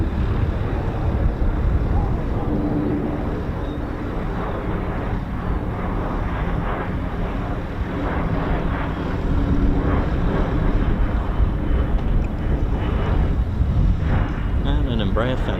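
A Lockheed F-35A stealth fighter jet roars overhead at an air display, a broad, sustained rumble heavy in wind noise that holds steady and swells slightly toward the end.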